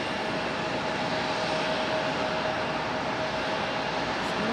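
Airliner arriving at Raleigh-Durham International Airport, its engines a steady, fairly loud broadband roar with a faint whine, constant across the few seconds and free of speech.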